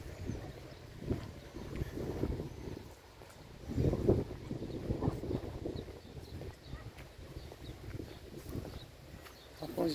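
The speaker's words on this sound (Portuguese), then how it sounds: "Imagina a força desse vento." Strong gusting wind during a windstorm in Ivaiporã, a low rumbling roar buffeting the microphone and surging in waves, loudest around the middle.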